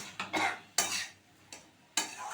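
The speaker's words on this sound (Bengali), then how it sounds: "সমস্ত মশলার সাথে এঁচোড় আর আলুটা কষিয়ে নিচ্ছি।" Jackfruit and potato being sautéed with spices in a pan, four or five scraping stirs of a spoon with soft sizzling between them, close and fairly quiet.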